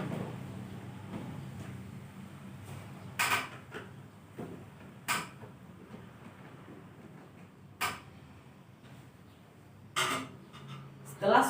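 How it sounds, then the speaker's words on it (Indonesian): Screws on the left and right sides of an LG Dual Inverter air conditioner are loosened, making scattered creaks and sharp clicks at irregular intervals over a faint background hum. "kemudian di sini teman-teman lepas baut skrup yang ada di bagian kiri dan bagian kanan"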